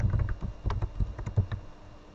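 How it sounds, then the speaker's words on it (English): A short burst of quick keystrokes on a computer keyboard, close and distinct, tapering off after about a second and a half. "Let me provide password now."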